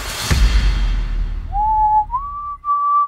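Someone whistles a Christmas song, a few clear sustained rising notes sounding alone and close after a brief thump and fading noise.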